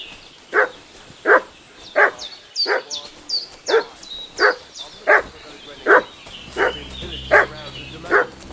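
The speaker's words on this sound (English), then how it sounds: "What's that dog making such a fuss about?" A dog in the video game Kingdom Come Deliverance II barks repeatedly at a steady, roughly once-per-second rhythm, a dozen loud, close barks, with higher chirping sounds in between and a low hum coming in near the end.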